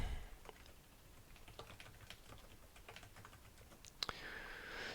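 Soft, quick keystrokes patter on a computer keyboard in an office, irregular and fairly faint, ending with a sharper click or two before a brief louder hiss.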